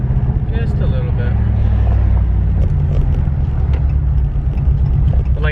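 A Hemi 5.7L V8 car cruising down the road gives off a continuous low exhaust rumble, steady and close, with some wind or road noise mixed in.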